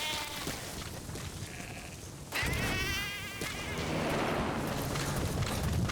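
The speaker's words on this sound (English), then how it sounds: "Sheep, I just want to get you out of the battlefield." In Metal Gear Solid V: The Phantom Pain, a sheep on the battlefield bleats in short wavering cries, fairly close and moderately loud, over a buzzing ambient background with a sharp shift in the middle.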